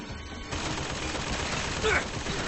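Turret gunfire in Bioshock Infinite, a steady dense burst of shots that starts abruptly and runs continuously, with a brief louder swell near the end.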